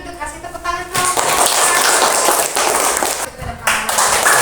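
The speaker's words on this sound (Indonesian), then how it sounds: "Kasih tepuk tangan kelompok" A classroom group is applauded after presenting, with broadband clapping that fills most of the stretch. It pauses briefly near the end and picks up again, with a room voice mixed in at the start.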